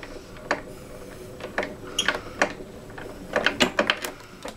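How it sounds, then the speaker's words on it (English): Ezy Press die-cutting and embossing machine rolled through by hand, giving a run of clicking, ratcheting mechanical bursts that grow busier toward the end, close and fairly loud. "what I love about the Ezy Press is that it really is easy to roll through"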